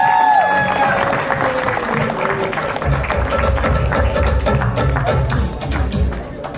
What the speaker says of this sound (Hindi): उत्कर्ष शर्मा के लिए बाहर जोड़ा ताली चाहिए